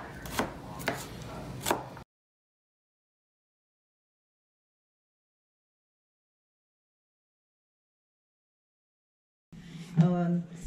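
A knife chops garlic on a cutting board at home. A quick, close burst of rapid chops lasts about two seconds, then silence follows, and a voice speaks briefly near the end.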